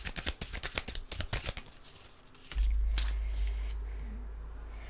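Tarot cards being shuffled by hand, a burst of close papery riffles for about two seconds, then a low steady rumble takes over as the handling fades out.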